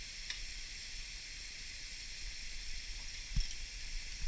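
Duck nuggets frying in hot oil, a steady, quiet hiss and sizzle throughout with a faint pop or two, close by and without talk.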